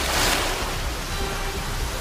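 A dense, continuous roar of rushing water from a waterfall, loud and unbroken, filling the whole clip with no other sounds standing out.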